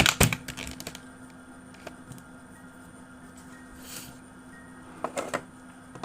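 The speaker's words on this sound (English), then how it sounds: "You probably can hear my keyboard sound very loud" Loud clacking computer keyboard typing close to the mic, sharp bursts of keystrokes at the start and again near the end with sparse single taps between, no talking.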